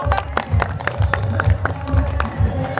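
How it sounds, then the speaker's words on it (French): Group clapping for a group of girls: rhythmic, evenly spaced claps in a steady beat, with low thumping and background crowd noise underneath. "Allez, on applaudit les filles, on applaudit."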